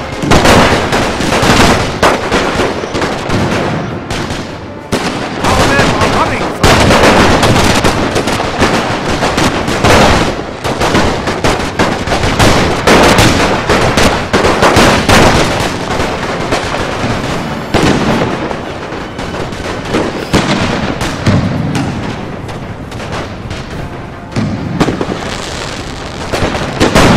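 Loud, continuous gunfire and artillery blasts in the Napoleon Total War Great War mod, a dense barrage of overlapping shots and booms filling the whole stretch.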